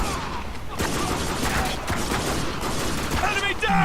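Continuous gunfire from the video game Spec Ops: The Line, a dense run of loud, rapid shots with a faint voice partly underneath.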